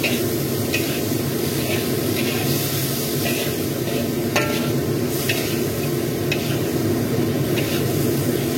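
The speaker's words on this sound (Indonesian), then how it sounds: "Lalu kita tumis-tumis sampai dengan tomatnya layu." Steady sizzling and stirring of tomatoes in a hot pan, a continuous frying hiss with occasional scraping clicks of a utensil, no talk.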